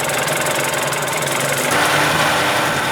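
An old Johnson Evinrude outboard motor runs steadily and loudly, a continuous rough idle with a knocking, vibrating drone throughout and no talking.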